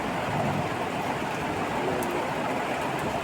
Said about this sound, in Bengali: সত্যি বৃষ্টি চালু হয়ে গেল আজ থেকে 4 অক্টোবর